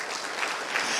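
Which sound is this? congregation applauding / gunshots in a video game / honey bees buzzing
congregation applauding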